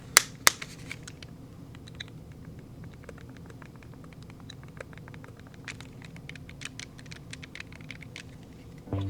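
Buttons on a Miyoo Flip clamshell handheld game console are pressed in irregular bursts of crisp, light clicks, with a couple of sharper snaps at the start, all against a quiet background.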